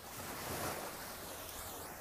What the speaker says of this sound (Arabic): سمعوا دحة الماي ما زينها